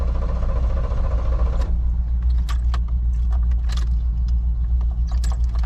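A car engine rumbles steadily and close by, its tone shifting early on, while light metallic jingles and clicks sound over it.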